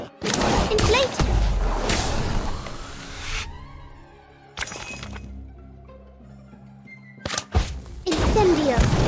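Spell impacts from Harry Potter: Magic Awakened, with bursts of shattering, thumping crashes near the start, middle and end, separated by quieter game music and effects.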